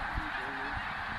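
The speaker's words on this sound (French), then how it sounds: "C'est vraiment la cacophonie, c'est complètement fou, il y a des oies partout" Honking calls from a huge flock of snow geese gathered in Québec, a dense cacophony of overlapping nasal honks at moderate distance, with a couple of nearer calls standing out.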